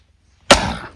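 After a silent pause, a piece of wood splits with one sudden sharp crack, close and loud, trailing off into a brief splintering rustle.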